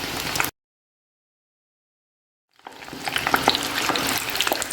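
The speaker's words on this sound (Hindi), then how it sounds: "इसे हमने दोनों तरफ से अच्छे से फ्राई करना है।" Chicken pizza kachori frying in hot oil, a dense steady sizzle that cuts out into near silence for about two seconds, then returns at full strength, close and loud.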